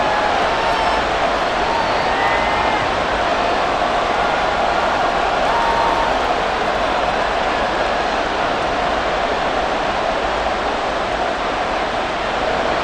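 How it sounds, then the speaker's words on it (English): A stadium crowd in Madden NFL 24 roars continuously at loud, steady intensity throughout, a dense wash of cheering during a Titans versus Bears all-time teams game, with no voices standing out. "This crowd turning up the decibel level."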